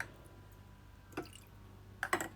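Chicken broth from boiled chicken poured into a pot of cooking molokhia, heard as a brief wet splash and then a cluster of splattering, dripping pours near the end over a quiet kitchen background.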